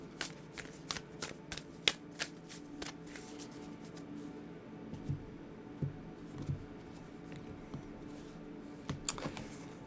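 Tarot cards being shuffled by hand: quick riffling clicks and soft flutters in bursts, close and fairly quiet, with pauses between shuffles.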